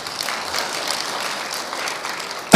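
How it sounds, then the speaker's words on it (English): Audience applause at a science, technology and innovation conference in Rwanda, a steady wash of many hands clapping at moderate volume for about two seconds before a sudden loud burst at the very end. "Can we clap for Lydie, please?"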